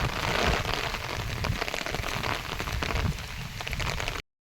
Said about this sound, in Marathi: जोरात पाऊस आला बघा